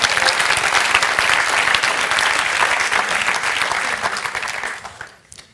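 Audience applauding steadily at a talk about a Toyota Material Handling factory, loud and dense clapping from a large crowd that fades out near the end.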